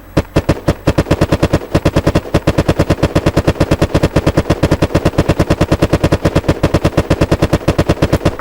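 Rapid automatic gunfire in the video game Unturned: a continuous loud stream of evenly spaced shots with a few brief pauses near the start, close and sharp, with no talking over it.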